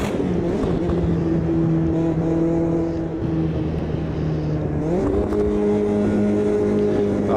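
A Mazda MX5 engine in a racing game, a loud steady drone with strong harmonics that holds pitch, dips briefly, then climbs again as the car accelerates, with no talk over it.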